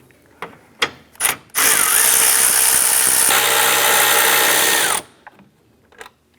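Power tool loosening 10mm bolts that hold the radiator fans of a 2004-2008 Acura TL, heard as a few short ratcheting bursts followed by one loud, sustained whirring run of about three seconds, close by, with small clicks afterward.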